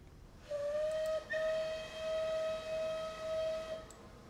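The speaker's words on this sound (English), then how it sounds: "Back to clan line for one last whistle." A steam locomotive whistle, the Merchant Navy class Clan Line in Train Simulator 2020 on the Paignton to Kingswear line, gives one long, steady, moderately loud blast lasting about three seconds over quiet background noise.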